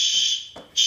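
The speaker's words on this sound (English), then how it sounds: "there's a fire alarm going off in my building" A building fire alarm blares a loud, piercing electronic tone that drops out briefly and then resumes, sounding alone without voices.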